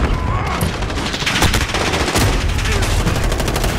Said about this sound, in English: Now I'm just being spawned into gunfire.